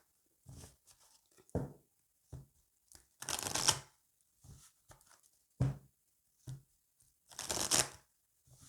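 Oracle cards shuffled for a card reading, several short bursts of riffling and sliding card noise spaced a few seconds apart, close and fairly quiet, with no talking.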